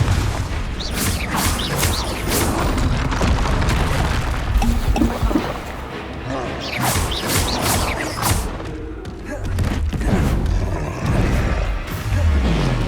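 Confringo fire-blast spells from Hogwarts Legacy burst repeatedly amid busy combat, with loud booms and crashing impacts layered over constant battle noise and low rumble, several hits spaced across the stretch.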